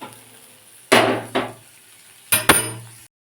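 Fried green tomatoes for a green tomato curry tipped out of a metal kadai, giving two pairs of sharp scraping clanks of pan and utensil, close and fairly loud, with quiet gaps between them.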